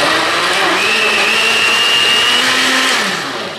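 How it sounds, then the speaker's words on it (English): A blender whirs loudly and continuously, close by, as it mixes a protein shake of protein powder and vanilla, with its motor pitch rising slightly and then winding down at the end. "we're going to get this started up here"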